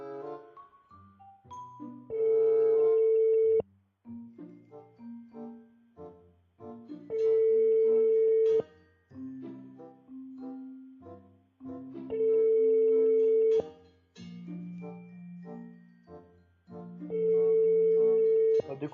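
A telephone ringback tone from an outgoing call sounds repeatedly while the caller waits for an answer. Steady electronic tone bursts recur about every five seconds with pauses between them, clear and close.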